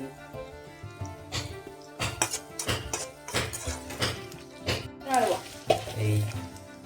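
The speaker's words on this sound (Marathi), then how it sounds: "टाकलेल्या कांद्याला परतून घेऊया त्यामध्ये आता आपण मिरची टाकून घेऊ" Onion and green chilies sauté in a pan for Marathwada-style sushila, with moderate sizzling and intermittent stirring scrapes and taps at close range, fairly quiet, with no speech heard.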